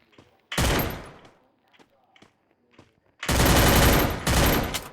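Bursts of rapid gunfire in the mobile battle game Free Fire: one loud volley, a few faint scattered shots, then two heavy sustained bursts close up, with no talking.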